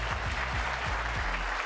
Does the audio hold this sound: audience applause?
yes